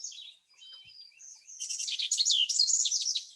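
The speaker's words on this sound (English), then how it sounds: "Sounds like a lot of wrens." Wrens sing in a bird survey setting, thin high trills and chirps that start sparse and swell into a busy, overlapping chorus of rapid warbling, fairly close and clear.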